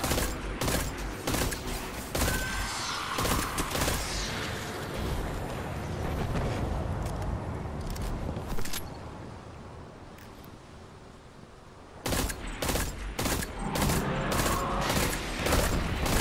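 Rapid bursts of pulse rifle gunfire in the shooter game Destiny 2, loud and dense, with repeated volleys, a lull in the middle, then renewed sharp shots near the end.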